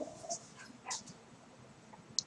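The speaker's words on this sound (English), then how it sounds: "You can see my dog over here losing himself over another dog being in his vicinity and barking" A dog gives a few short, high whimpers and yelps, stirred up by another dog nearby, at moderate distance indoors with a quiet gap between bursts.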